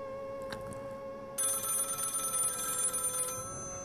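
A loud electronic telephone ring starts suddenly and trills steadily for about two seconds, then cuts off in a quiet room.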